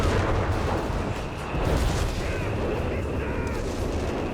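Massive artillery strikes in Company of Heroes 3 hitting in a continuous rumbling barrage, dense booms blending into a steady loud roar with no clear gaps.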